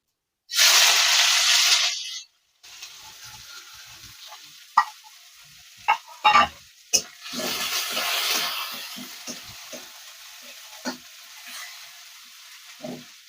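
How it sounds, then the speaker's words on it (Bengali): Chopped onions dropped into hot oil with whole cumin in a pan, a sharp burst of loud sizzling, then quieter frying with clinks and scraping stirs. "দুটো পেঁয়াজ কুচিয়েছি সেটা দিয়ে দিচ্ছি।"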